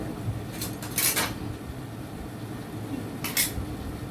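A small spoon scrapes and clinks against a dish in two brief bursts of bright metallic sound, separated by a quiet stretch with a low background hum.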